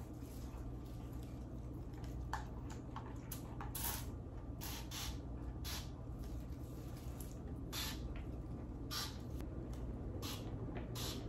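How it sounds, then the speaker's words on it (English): A spray bottle mists rubbing alcohol onto potted plant soil indoors, giving several short, faint spritzes scattered over a low steady background hiss, with no voices. "Just did a few little spritzes."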